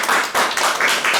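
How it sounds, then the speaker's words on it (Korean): A crowd at a Busan general meeting and current-affairs forum claps in a short, loud burst. About four quick waves of hand claps sound in close rhythm, with no talk. "다시 한번 박수"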